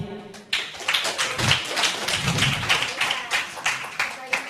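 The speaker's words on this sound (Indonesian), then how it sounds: "Kita tepuk tangan sekali lagi." Listeners at a religious debate clap their hands in a burst of uneven, thumping claps, loud and close, with some voices mixed in beneath the clapping.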